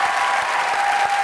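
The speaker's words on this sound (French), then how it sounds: "Je demande d'acclamer Jean Reynaud." A TV studio audience applauds Jean Reynaud with steady, dense clapping that fills the whole moment at a fairly loud level, no voices standing out above it.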